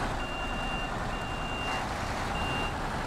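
Heavy truck in the Snowrunner video game reversing, with a steady high electronic beep repeating in long tones over a loud, constant engine rumble, no talk.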